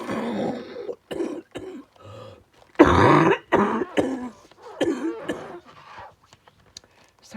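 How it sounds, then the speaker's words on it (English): A person indoors coughs and clears their throat several times in short, close bursts separated by brief pauses, with one especially loud cough partway through. "I apparently want to cough."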